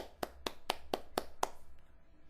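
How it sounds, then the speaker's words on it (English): Six sharp hand claps in a steady, even rhythm, each crisp and close, followed by a short quiet stretch with no talking. "Another hand clap."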